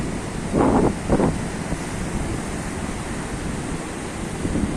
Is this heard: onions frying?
no